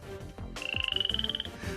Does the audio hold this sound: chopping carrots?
no